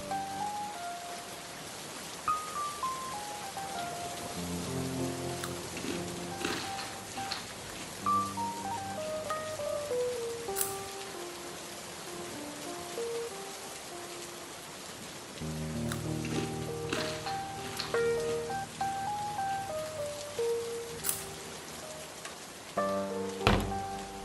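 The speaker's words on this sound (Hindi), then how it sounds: "बाहर बारिश पड़ रही है" Rain falls outside as a steady, soft patter that runs for the whole scene from a Hindi drama film. A gentle melodic music score plays over it and no one speaks.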